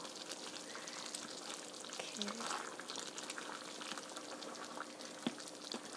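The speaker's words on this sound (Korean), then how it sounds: "이렇게 저어가면서 끓여주세요" Chicken curry sauce simmering in a pot while being stirred: a faint, continuous bubbling hiss with light patter and an occasional scrape of the spoon, heard alone at low volume.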